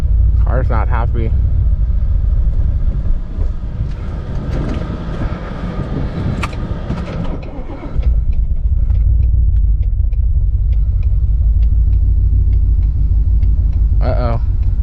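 Car engine struggling under a wide-open-throttle pull, a loud, heavy low rumble that drops off abruptly around the midpoint, then returns as a steady drone with a brief rattle near the end.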